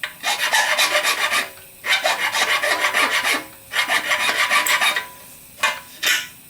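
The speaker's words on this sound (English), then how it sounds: "You want to get in here and just file the edges a little bit." A hand file rasps across the edges of a TH400 transmission case part in loud, close bursts of quick back-and-forth strokes, with short pauses between sets and no talking.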